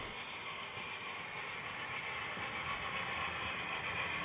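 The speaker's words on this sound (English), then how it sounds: "The train is going to be coming down at the bottom of the helix, going to our staging yard" An HO scale model train running down the helix of a DCC layout: a faint, continuous whirring hiss with light rail clatter, steady and distant throughout.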